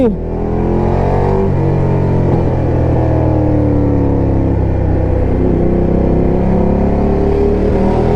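A Ducati Diavel Carbon motorcycle engine rumbles loud and near, rising and falling in pitch through several revs in a continuous throaty roar while riding through traffic.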